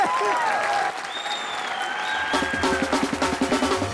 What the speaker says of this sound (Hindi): इनके लिए जोरदार तालियां भाई साहब के लिए।